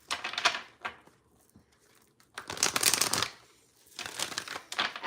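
Tarot cards are shuffled in three quick bursts of riffling and rustling, close and fairly quiet, with short pauses between them.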